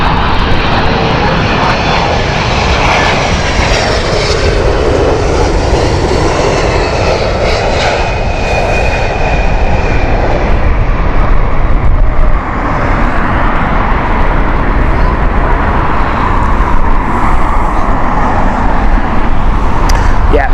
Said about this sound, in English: United here, this is a Boston flight with their 767-300.